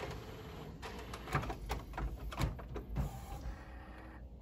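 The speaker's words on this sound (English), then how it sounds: "Hit the printer off and go to off." Epson WF-7720 sublimation printer powering off, a quiet run of mechanical clicks and soft whirring as the internal parts settle, with a few sharper ticks and a low hum underneath.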